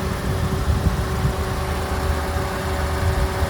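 A Toyota-derived 1.8 liter four-cylinder 1ZZ-FE engine in a Pontiac Vibe with 70,000 miles idles steadily, a smooth, even low rumble with a faint whine held at constant level, no voices.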